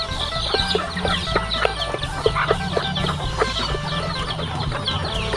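Chickens and fighting cocks cluck continuously in a rural Thai farmyard, a busy layered mix of short calls and scratching at close to moderate distance, with no talk.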